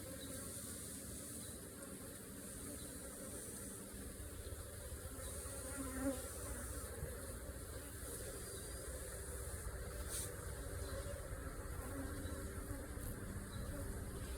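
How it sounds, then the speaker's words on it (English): Honey bees buzz around an open hive during an inspection, a steady, dense drone of many insects close by, continuous and fairly soft, with no talking. "these bees are behaving"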